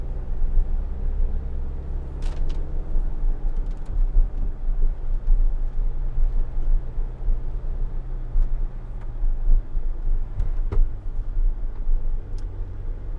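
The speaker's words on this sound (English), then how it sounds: "I love this little 4-cylinder Sprinter because it's just so peppy as we're going up through the mountains here" A 4-cylinder Sprinter van climbs a mountain road, its engine a steady low rumble beneath continuous road and wind noise from inside the cabin, with no talking.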